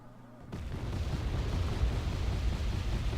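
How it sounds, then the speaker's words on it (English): RM-70 rocket artillery fires in a video game. After half a second of near quiet, a heavy rumbling barrage breaks out and keeps roaring without letup to the end. "Oh, RM70's firing again."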